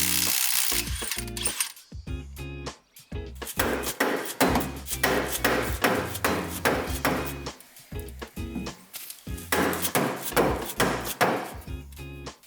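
A 1¼-inch bolt is worked out of an old driveshaft yoke during a driveshaft swap, heard as a run of sharp metallic clanks and ratcheting clicks in quick bursts, with brief pauses between them and no talking.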